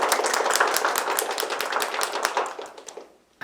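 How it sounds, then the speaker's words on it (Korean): Dense audience applause at a Seoul financial innovation forum on alternative trading exchanges, a full burst of many hands clapping that stays strong and then tapers off quickly near the end. "큰 박수 부탁드립니다."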